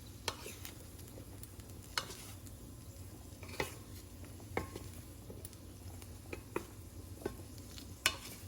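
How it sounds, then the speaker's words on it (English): Chickpeas fry in a pan with a soft, steady sizzle while a utensil stirs and scrapes them, giving a scattering of sharp clicks and taps against the pan. It sounds close and fairly quiet, with no talking. "just continuing to cook until the chickpeas are done"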